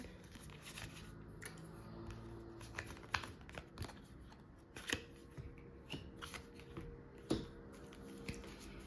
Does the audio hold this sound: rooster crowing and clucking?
no